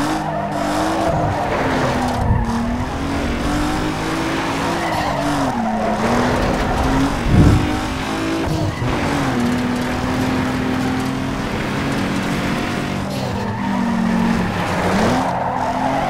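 Tires squeal steadily as a car drifts through a corner in the racing game Need For Speed Underground 2, the wavering screech riding over a loud, continuous engine roar, with no talk.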